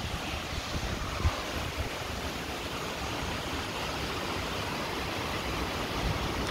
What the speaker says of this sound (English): it started to rain, man. I just have a look at how beautiful the rain is.